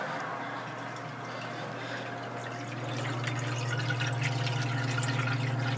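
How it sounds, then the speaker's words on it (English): Auto top-off pump running on a Red Sea Reefer G2 reef aquarium, a steady low motor hum with trickling, dripping water that grows slightly louder and fuller partway through, with no talking. "It's attempting to pump water."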